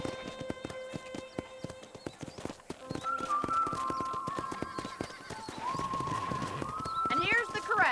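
A horse's hooves clip-clop in a steady, close trot at a ranch corral in the Western video game Red Dead Redemption, with voices and background music over the hoofbeats.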